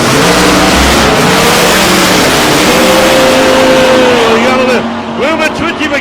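A loud drag racing car, a Willys, roars off the line and accelerates hard down the strip, engine pitch climbing steadily before fading as it pulls away into the distance.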